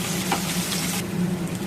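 Potatoes frying in hot oil with garlic paste and green chili paste, producing a dense close sizzle that stays steady throughout, with faint stirring.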